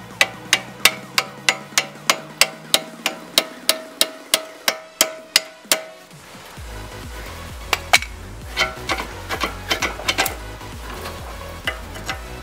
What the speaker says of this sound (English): if the bolt doesn't want to come out, just help it along with the hammer